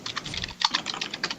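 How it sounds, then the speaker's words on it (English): Rapid, frantic typing on a computer keyboard, a dense run of close clicking keystrokes with a brief pause midway before the burst resumes. "I just hear frantic typing."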